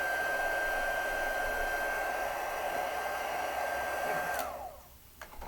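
A hair dryer blows steadily and loudly across the back of watercolor paper, a constant whooshing roar with a fixed tone, then switches off near the end leaving a quiet room.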